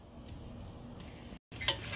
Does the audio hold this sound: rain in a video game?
no